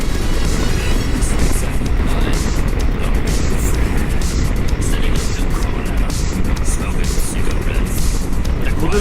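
Strong, constant wind roar buffets the rider of a BMW K1600 motorcycle on a gusty day in city traffic from Halkalı toward Taksim. The broadband rush stays loud and unbroken throughout, with engine hum buried beneath it.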